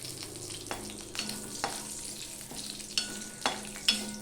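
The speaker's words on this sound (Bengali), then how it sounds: "আমি পাঁচ ফোড়ন দিয়ে দিলাম দিয়ে দিলাম একটা তেজপাতাকে দু ভাগ করে" Panch phoron and a bay leaf split in two sizzle gently in a little hot oil, with soft frying crackle and several distinct scraping clicks of a spatula against the pan, close and quiet.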